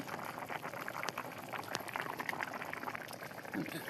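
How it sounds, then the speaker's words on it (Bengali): Fish goes into a simmering fish and vegetable curry, a soft, steady bubbling and pouring sizzle throughout that is faint and close. "এখন আমি মাছ একটু দিয়ে দিব"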